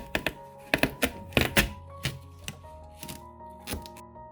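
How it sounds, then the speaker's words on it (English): Knife cutting into a watermelon, a series of close dull thunks and crisp cracking snaps, some in quick clusters, trailing off into softer knocks, with no talking. "First, cut the watermelon in half."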